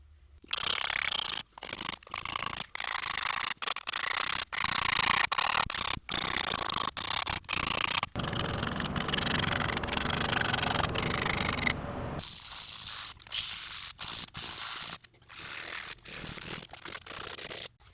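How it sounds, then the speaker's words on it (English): Old finish being scraped off a rosewood tote from a Stanley Bedrock No. 604 Type 3 hand plane: a run of close, rasping scrape strokes with brief gaps, dense through the middle and choppier near the end. "So let's scrape off the old finish and put some new finish on."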